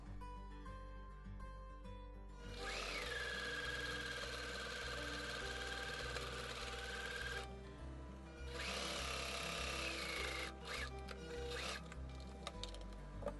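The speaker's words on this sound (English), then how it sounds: "I used my sewing machine to match up or just to line up the edges" A home sewing machine stitching around the edges of fabric newborn scratch mittens, running in two steady close whirring bursts with a short pause between.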